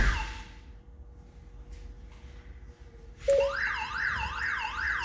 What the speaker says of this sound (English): And we're going to activate the Siri with our MMI button.